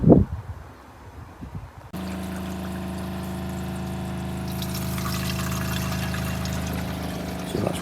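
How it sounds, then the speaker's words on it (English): A camper van's self-built plumbing water pump cuts in after a quiet moment and runs with a steady droning hum and rushing water flow, loud and close, holding constant for several seconds. "the pump switched itself off because it's on a pressure switch"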